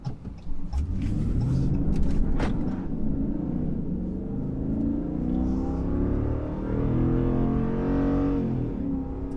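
Interior drone of a 2020 Ram 2500 Laramie heavy-duty truck with a 6.4L engine accelerating on the road, its engine note climbing in pitch through the gears under constant road rumble.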